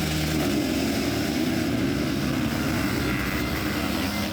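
Sidecar racing engines roar together at a race start, a loud, steady, dense droning wall of motor noise sustained throughout with no pauses.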